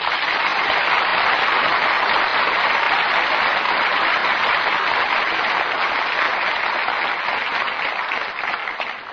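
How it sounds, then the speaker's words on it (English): A radio theatre studio audience applauds stars Richard Widmark, Paul Douglas and Joyce Mackenzie, a dense, loud and sustained wash of clapping with no voices that tapers off only at the very end. "join me in well-earned applause for Richard Widmark, Paul Douglas,"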